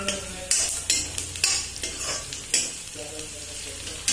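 Curry leaves fry with a steady sizzle in a pan while a spoon stirs them, scraping in regular strokes about every half second; close and fairly loud, with no talking.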